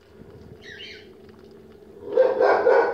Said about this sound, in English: Then I'm going to pour water. Okay, this is water, hot water.